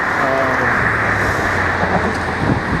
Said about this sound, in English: You can hear the cars that are going by.